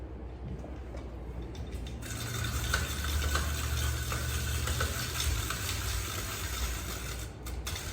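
Yams grated into French fry shapes, a continuous close scraping rasp at a steady rhythm that strengthens after the first couple of seconds.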